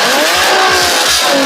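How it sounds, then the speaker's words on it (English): A Nissan 370Z rear-wheel-drive sports car with its VQ engine roars loudly and steadily at close range, with a harsh, continuous engine note and no talking. "The 370Z is a powerful rear-wheel drive sports car famous for its VQ roar."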